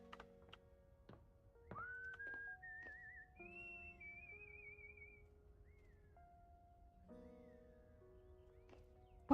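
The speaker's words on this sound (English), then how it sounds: "Why do I hear whistling?" Whistling in a video game: a clear, quiet whistled melody with gliding pitches, set over soft tonal game music and a few light clicking taps.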